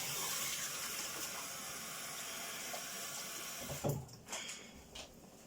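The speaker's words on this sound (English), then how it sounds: "Just wash my hands, guys, now from that meat." Tap water runs steadily into a sink during handwashing after handling meat, a close, even hiss that ends with a few splashes and knocks as the flow stops.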